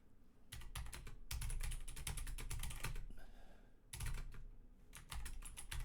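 Typing on a computer keyboard, a fast, steady run of close key clicks in bursts with a brief pause midway before the tapping resumes.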